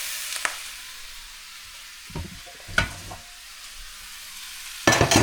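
Bear meat searing in a pan, a quiet, intermittent sizzle broken by a few brief stirring clatters and a louder burst at the end.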